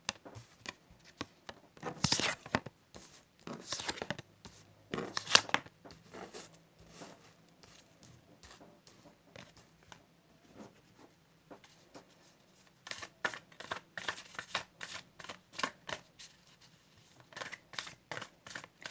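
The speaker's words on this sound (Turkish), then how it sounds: "şöyle kartlarımızı açalım" Tarot cards being laid out and flipped on a table, soft irregular slaps and swishes of card stock, with shuffling flurries near the start and a rapid run of light taps toward the end, faint and close.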